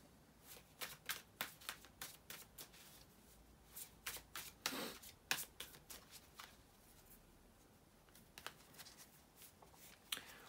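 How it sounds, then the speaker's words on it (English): Tarot cards are shuffled by hand in a quiet room: a string of soft riffling and slapping bursts, close and fairly faint, repeating irregularly with short pauses between. "bear with me just a couple of seconds, guys, to shuffle the cards"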